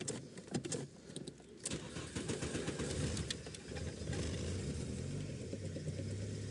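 A car engine cranks and catches, then settles into a steady, fairly loud idle that runs on without pause.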